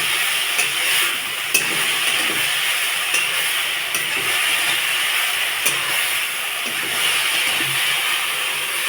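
Dried shrimp, seasoned with salt and turmeric, frying in hot oil in a karahi, a loud steady hissing sizzle with faint occasional pops, continuous and without speech.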